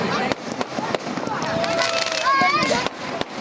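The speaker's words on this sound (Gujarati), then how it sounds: "દરેક લોકો પોતાના સ્થળ ઉપર ઊભા શાંતિપૂર્વક દરેક લોકોએ આતશબાજી નિહાળવાની છે." Fireworks at a Ravan Dahan celebration: a steady crackle of bursts with several sharp pops and rising whistles, set against crowd noise and talk.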